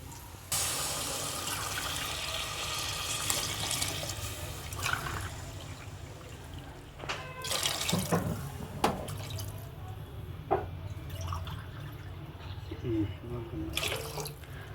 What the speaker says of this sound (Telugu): ఇదే గ్లాస్ తోటి నీళ్ళు కూడా వేసుకోవాలి.